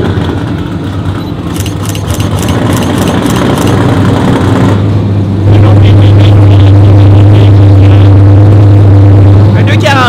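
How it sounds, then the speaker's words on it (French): A loud Nissan Skyline R32 engine rumbles steadily at idle, close by, then settles into a deeper, stronger drone for the second half. "il faut que j'aille vous montrer le R32 le plus loud ever. Il sonne vraiment bien."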